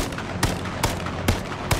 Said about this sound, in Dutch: dat waren drie volle schoten